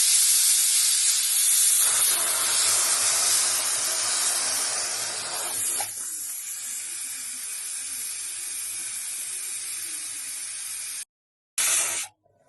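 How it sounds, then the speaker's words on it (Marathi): Steam jets from a pressure cooker whistle while mutton curry cooks on a gas stove, a loud continuous hiss fading slightly before cutting off abruptly, close and with no talk. "इथे 4थी शिट्टी झालेली आहे."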